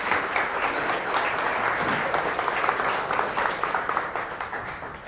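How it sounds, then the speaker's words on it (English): A lunch-and-learn audience applauds its guest speakers at a business talk. The dense, sustained clapping fills the whole stretch at even strength, with little else heard. "Can we give them a round of applause?"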